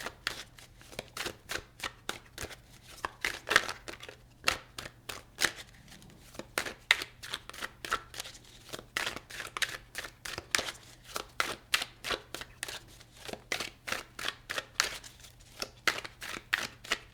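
Tarot cards being shuffled by hand, a long run of crisp, rapid riffling bursts in an even rhythm, close and fairly quiet, with no talking.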